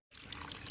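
Water from a siphoned guppy fish tank pours out in a steady, close splashing stream that starts abruptly and runs without pause.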